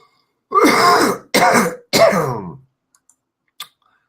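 Three throaty cough-like bursts in quick succession, close and fairly loud, followed by a few faint clicks.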